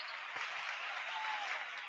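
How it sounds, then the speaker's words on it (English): Steady applause from a crowd, a dense even wash of clapping that holds throughout. "Let's give him another round of applause."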